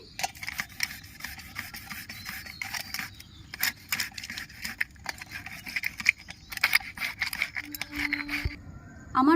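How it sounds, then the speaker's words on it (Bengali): Ginger, garlic and tomato are rubbed across a kitchen grater in quick scraping strokes, short rasping bursts with brief pauses between them, close and fairly quiet, with no talk. "আদাটা আমি ঘষে নিচ্ছি চারকোয়া রসুন আমি ঘষে নিচ্ছি টমেটোটা আমি ঘষে নিচ্ছি"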